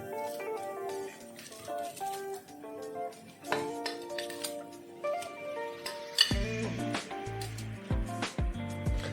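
Metal pot lid clinking and settling onto a pot of pabda fish curry, with a few sharp clinks and taps of cookware, then a heavier clatter as the lid comes down, no talking.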